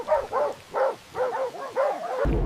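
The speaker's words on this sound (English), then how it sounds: "This is a wild dog." A wild dog barking and whimpering in a series of about six short, rising yelps with brief pauses between them, fairly close and loud, ending in a sudden burst of noise.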